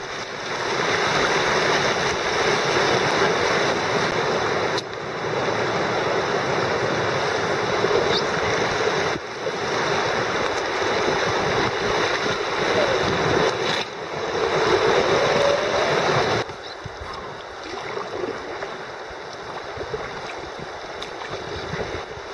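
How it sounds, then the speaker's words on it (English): Whitewater rapids on the Upper Salt River rush in a continuous loud roar, with a few abrupt shifts in level and a quieter stretch near the end. "the river is wild and free, descending in a non-stop series of rapids"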